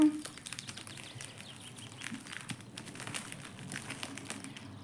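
Close, continuous crinkling and rustling as parcel packaging is opened, irregular and fairly quiet, with scattered crackles throughout.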